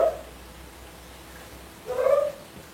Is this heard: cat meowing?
yes